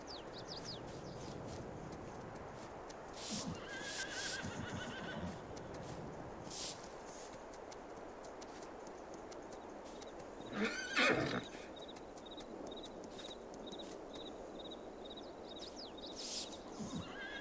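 Horses neigh and whinny in a Farming Simulator 22 stable area, several loud calls spread across the stretch with occasional hoof clops and faint bird chirps in the background.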